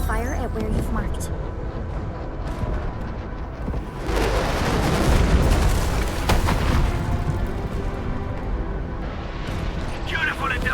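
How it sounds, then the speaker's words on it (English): UWST artillery strike landing on a marked target in Arknights: Endfield, heavy booming impacts and rumble building mid-clip over game music and effects, with voices talking throughout. "UWST will fire at where you've marked."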